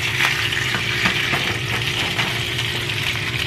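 Sausages fry in a hot pan with a dense, steady sizzle and occasional faint clinks, close and continuous with no talking.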